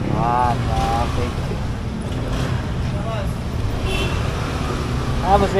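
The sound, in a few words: road traffic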